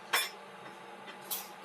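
A utensil scrapes and clinks twice against a pan while a spiced mixture with paprika and chili powder is stirred, the taps faint and spaced about a second apart with no talk.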